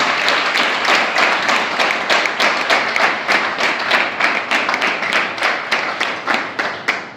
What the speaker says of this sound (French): S'il y a des jeunes dans la salle ce matin, j'aimerais que vous faites des bandes d'applaudissements